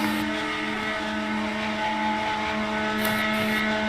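Race cars circling a track during a Carb Day session, with one peeling off into the pits, heard as a loud sustained engine whine, steady and close, with no talk.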